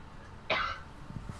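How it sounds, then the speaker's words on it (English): A single short, fairly loud cough from one person, alone in a quiet room with faint background noise. "Hold on, I gotta cough."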